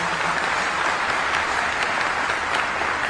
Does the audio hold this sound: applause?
yes